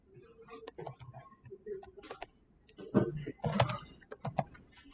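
Light typing on a computer keyboard while writing Python code, irregular soft clicks and bursts of keystrokes close to the microphone, with a person talking in Portuguese over much of it.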